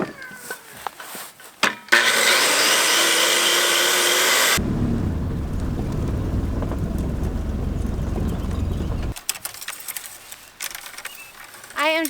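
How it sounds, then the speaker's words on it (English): Wood framing for a flat ceiling is cut near masonry walls. A loud, whining cutting burst runs for a few seconds, then gives way to a lower, rumbling grind before fading into quieter outdoor noise. "So I'm cutting the framing that'll be basically for the flat ceiling"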